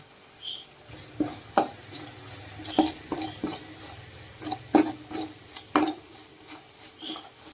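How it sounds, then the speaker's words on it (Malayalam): Chilli powder, turmeric and pickle powder stirred in a pan for Kerala-style fish pickle, heard as irregular scraping and rasping strokes of a spoon against the pan, close and moderately loud, with no talk. "1 ടീസ്പൂൺ മുളക് പൊടി, 1/2 ടീസ്പൂൺ മഞ്ഞൾപ്പൊടി, 1/2 സ്പൂൺ അച്ചാറുപൊടിയും ചേർത്ത് പച്ചമണം മാറുന്നത് വരെ നല്ലപോലെ ഇളക്കി വഴറ്റുക"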